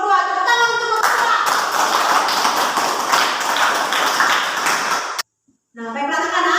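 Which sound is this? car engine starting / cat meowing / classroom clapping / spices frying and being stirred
classroom clapping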